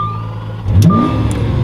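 Lamborghini Aventador V12 engine starting with keyless push-button start: a rising cranking whine catches into a loud, close idle roar that holds steady to the end, with no talk.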